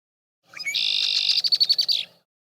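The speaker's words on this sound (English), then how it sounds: "then you are hearing a duet by a mated pair" A single bright bird song phrase, a duet by a mated pair: a steady high trill running into a series of rapid repeated notes, close and clear with no talking.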